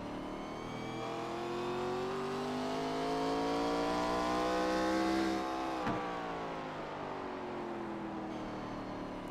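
A race car engine winds up on a speedway during a Scrambler Series race, a sustained droning roar that climbs in pitch then eases as the car passes, heard from a distance with a steady mechanical whine.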